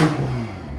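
A BMW M340i 3.0-litre with a Valvetronic cat-back exhaust idles low and steady with its valves open, giving a deep continuous burble close by with no talking.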